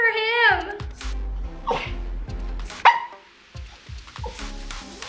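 A dog barks and yips in short bursts close by while being teased with a meaty treat, mixed with people talking and laughing nearby.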